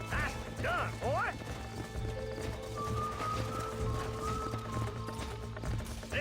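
Horse hooves clip-clopping in the Western video game Red Dead Redemption, with a horse neighing early on, steady hoofbeats under game characters' talk and background music.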